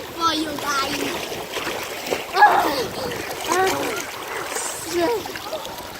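Splashing water from someone swimming in a river at a park, repeated uneven splashes close by, with children and other people talking throughout.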